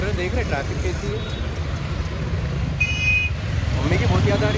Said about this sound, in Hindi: चलो बोल रहे, देख रहे ट्रैफिक कैसी है।